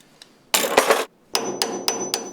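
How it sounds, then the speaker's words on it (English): A hammer taps over the retaining tabs on a VW Type 1 link pin beam, one loud ringing burst of strikes, a short pause, then four evenly spaced metallic blows close by. "I can't forget to hammer over these retaining tabs so the beam bolts don't come loose"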